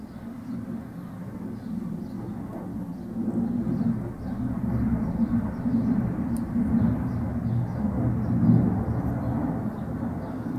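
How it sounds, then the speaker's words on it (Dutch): A low-flying airplane passing overhead a farm, a broad deep rumble that swells and lingers steadily throughout, with no voices heard. "oh, er komt even een vliegtuig over."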